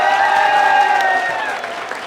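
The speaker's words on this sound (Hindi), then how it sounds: "एक बार जोरदार तालियां बजा दीजिए।" Audience applause at a large NEET exam revision event, a dense, steady wash of clapping with a sustained ringing tone over it, loud and unbroken, easing slightly toward the end.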